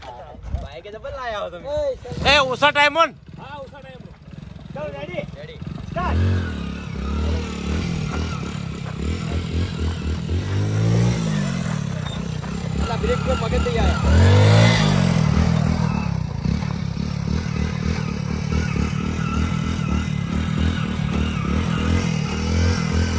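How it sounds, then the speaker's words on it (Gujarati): A motorcycle is started and ridden at a village fitness challenge, its mid-pitched engine clattering and revving steadily for over twenty seconds, rising and falling in loudness as it moves, with people talking over it. "બાઈક ચાલુ કરજો"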